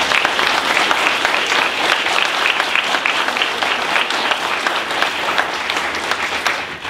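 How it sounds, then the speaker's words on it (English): Audience applause at a school educational center grand opening and ribbon-cutting ceremony, steady and full clapping from a crowd sustained throughout, loud and close with no talking over it. "Let's give her a round of applause."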